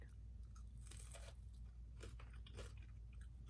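Crunchy bites into a baked bacon and Parmesan crisp, with a few sharp, close crackling snaps followed by quieter chewing crunches, faint and intimate with no talking.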